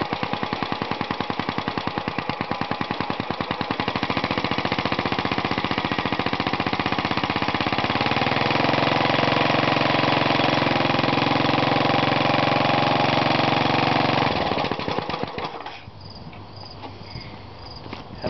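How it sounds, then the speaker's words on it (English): A small turbo-compounded Briggs engine runs loud and close with a rapid, rattling firing pulse and steady whine. It holds for about fifteen seconds, then cuts off, leaving a quieter spinning-down hum. "We'll make another run of the turbo compounded Briggs here."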